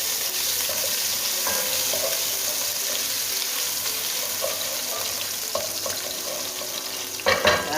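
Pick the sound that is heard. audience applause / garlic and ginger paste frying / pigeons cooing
garlic and ginger paste frying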